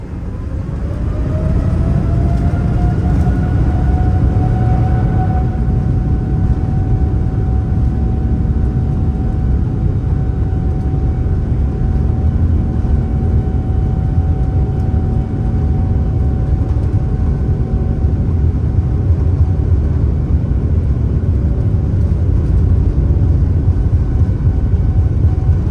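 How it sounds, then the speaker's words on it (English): From inside the rear cabin of a Boeing 787 on takeoff, the engines spool up with a rising whine. It settles into a loud, constant roar with a steady tone and deep rumble that lasts throughout. "I do love sitting in the back of a 787 cabin in particular on takeoff"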